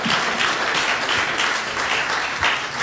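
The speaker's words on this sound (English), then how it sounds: "So big round of applause for WalkMe tonight." A tech meetup crowd in San Francisco gives a steady, dense round of applause for the winning startup, continuous and fairly close throughout.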